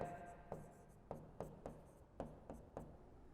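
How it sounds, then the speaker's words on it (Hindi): Pen strokes while working a physical chemistry problem: a close, quiet series of short scratchy marks in an irregular rhythm, about seven distinct strokes with no talking. "अब अपन लिखेंगे"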